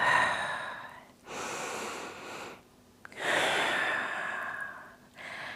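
Slow, deep breaths during a family yoga session: two long audible inhale-exhale cycles, close and fairly loud, with quiet pauses between them and no talking.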